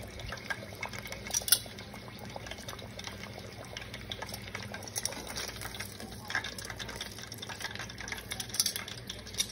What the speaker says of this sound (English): if it's bubbling lots, that means it's still cooking the surface